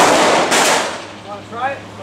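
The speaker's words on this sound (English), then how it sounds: "First time I've ever shooting an HK 45." HK45 pistol fired at a shooting range, a loud close blast that rings out and decays, with a second report a moment later and a brief voice near the end.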